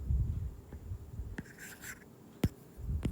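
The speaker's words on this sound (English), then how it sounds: "Let's erase all these first." Writing on a surface is being erased during a maths lesson: steady low rubbing and scraping strokes with a few sharper scuffs and one distinct knock, close and moderately loud.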